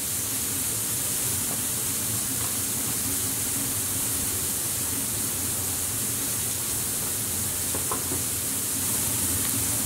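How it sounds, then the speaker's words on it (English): Carne asada steak sizzling on a hot grill, a steady broad hiss that holds evenly from start to finish with no talk over it. "once your grill's at temperature, we'll just slap that straight on"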